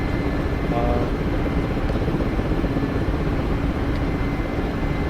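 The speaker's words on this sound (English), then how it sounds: "I'm going to start to lower the helicopter." A Mi-8 helicopter descends toward a landing pad in the DCS flight simulator, its rotor and turbine producing a continuous dense, rumbling drone at steady loudness with no voices.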